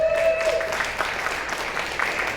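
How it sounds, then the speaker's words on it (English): Applause from the audience at a chamber of commerce meeting, a continuous patter of many hands clapping together, with a thin tone briefly ringing underneath at the start. "person who needs all the applause or deserves all the applause but doesn't get it is Barb Nada"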